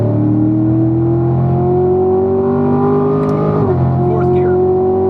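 A race car engine drones steadily, then dips and climbs in pitch as the car accelerates out of a corner at Spring Mountain, loud and close, with an instructor's voice talking over it.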